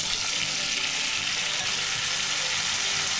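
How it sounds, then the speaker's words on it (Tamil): Chopped tomatoes fry in a hot pan, giving a steady, loud, close sizzle that runs without a break and with no talk over it. "அதையும் ஆட் பண்ணி நல்லா வந்து நான் ஃப்ரை பண்ணிக்கிறேன்"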